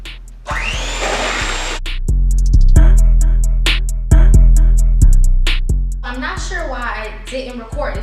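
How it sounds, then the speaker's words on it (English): Electric hand mixer beating strawberry crunch cupcake batter, a loud close whirring motor that starts, cuts out and restarts in several bursts, the pitch shifting as the beaters work the mix. "Now we're gonna go back in with our mixer and mix it again."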